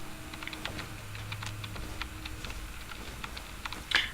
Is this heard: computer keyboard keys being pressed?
yes